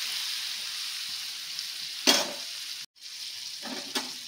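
Paneer fries in oil in a pan with a continuous bright hiss of sizzling, broken by a few louder bursts as pieces are stirred and one brief dropout; close, with no speech.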